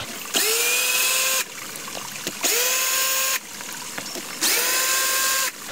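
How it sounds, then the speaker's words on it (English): A power drill backs screws out of a box at a ram pump bucket intake in three loud, close bursts, each with a whirring motor pitch that rises as it spins up, separated by brief pauses with small clicks. "I brought the drill here, and I'm just gonna start pulling these screws out to remove this box."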